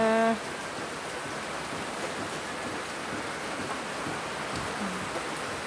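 Steady, heavy rain from Typhoon Christine hisses evenly throughout, heard from a flooded balcony, a dense wash of noise with no voices and only faint scattered sounds beneath.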